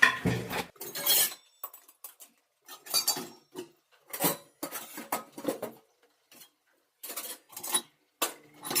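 Dishes, pots and pans clatter in a home kitchen as a pile of utensils is washed, with repeated sharp clinks and scrapes in uneven bursts separated by brief pauses, close and fairly loud.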